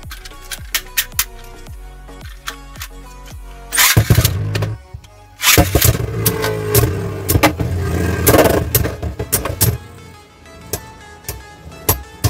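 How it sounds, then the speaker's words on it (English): Beyblade Burst tops battling, a Jaggy Dash spinning against a left-spin top in a stadium, with a string of sharp clicking launches followed by a continuous loud whirring, scraping clash and repeated metallic hits. "Let's start with the Jaggy Dash against a left spin."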